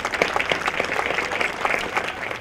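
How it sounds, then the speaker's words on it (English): Audience applause at a foundation conference event, steady clapping from a crowd filling the moment without speech. "she definitely deserves a nice round of applause."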